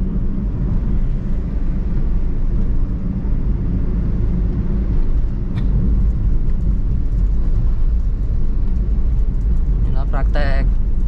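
A Toyota Calya with a manual gearbox cruising in fourth gear on an open road in the Madiun area, a steady loud engine and road rumble throughout, with a brief higher whine near the end.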